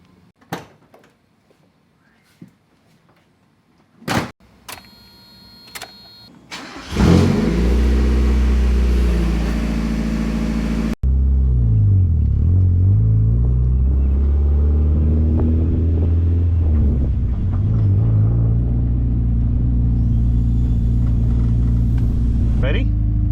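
Car starting up and driving slowly around a parking lot, a few door thuds and clicks, then a loud steady engine rumble inside the cabin that holds on with slight rises in pitch while driving; no talking.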